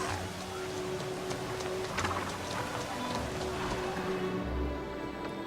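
Steady rain falling in the city-building video game Anno 1800, a soft even patter across the whole stretch with faint ambient game tones underneath.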